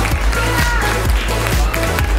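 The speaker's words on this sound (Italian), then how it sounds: "a cui vogliamo un grande applauso." Loud, close crowd applause for a pageant representative at a hair-style beauty show, a dense clapping wash over heavy pulsing dance music with strong rhythmic bass thumps.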